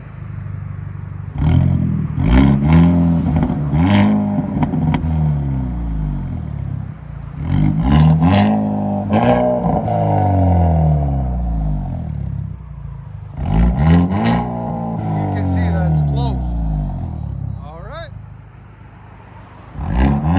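Hyundai Elantra N engine revving with exhaust valves closed, three strong rising-and-falling rev bursts spaced several seconds apart, close and loud, with a brief clatter near the end.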